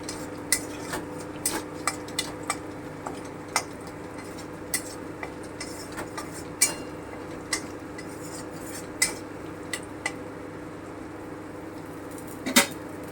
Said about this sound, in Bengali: একটু হালকা করে একটু সাঁতলে নেব